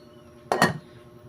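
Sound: lid placed on cooking pot

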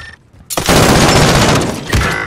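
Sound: gunfire from a weapon in the video game Warzone

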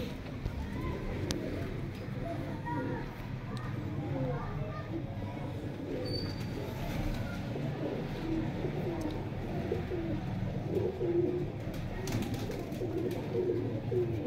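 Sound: pigeons cooing

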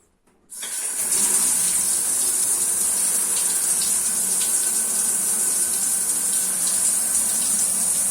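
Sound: tap water running from bathroom faucet

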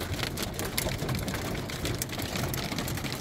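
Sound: hailstorm hitting a vehicle

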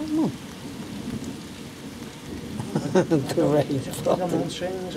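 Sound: thunderstorm with heavy rain and thunder

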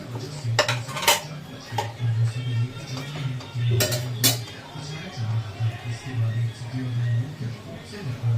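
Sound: wok on gas stove, cooking utensils clinking

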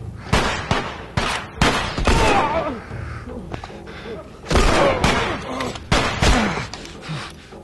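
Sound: machine gun fire in the video game The Last of Us

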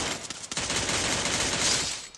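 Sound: gunfire in Free Fire video game

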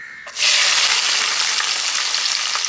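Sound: garlic frying and stirred in hot sesame oil

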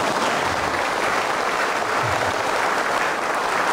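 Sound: audience applause at a Dharma assembly

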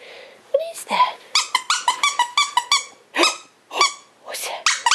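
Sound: puppy barking, Pug/Cocker Spaniel mix

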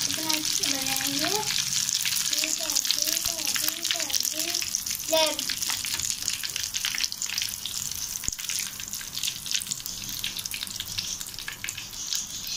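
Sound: egg balls frying in oil

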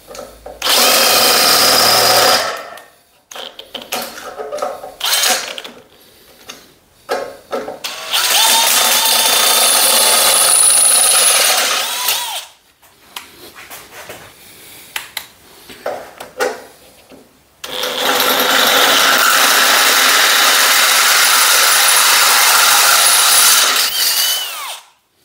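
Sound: power drill drilling holes for an ArcDroid splash shield

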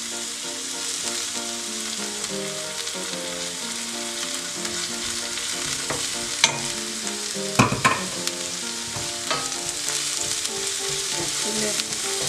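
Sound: garlic frying with sautéed onion in a pan

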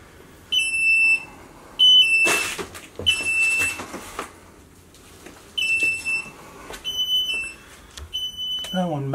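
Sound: smoke alarm beeping in fire-damaged house

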